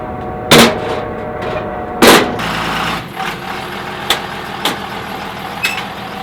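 Junker truck built as a burnout rig driving onto a trailer, with a loud engine rumble, two sharp bangs early on and a few lighter knocks and clunks afterward.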